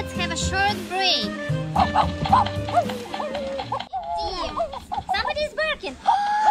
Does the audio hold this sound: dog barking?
yes